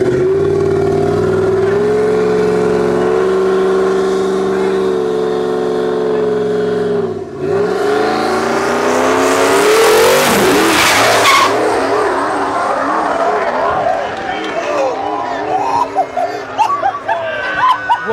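Turbocharged Ford Mustang GT drag racing a Cadillac ATS-V: loud engines hold a steady rev, drop briefly, then roar up in rising pitch during hard acceleration with tire noise, and voices are faintly audible.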